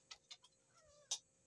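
A pet kitten gives a few short, high meows, then a longer drawn-out mew and a sharp final cry, close and fairly faint in a quiet room.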